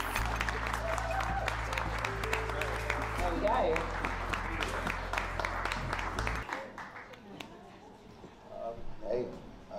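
Audience applause at the 2022 British Urban Film Festival Awards, a dense steady clapping that fills the room before fading, with music running underneath and voices rising toward the end.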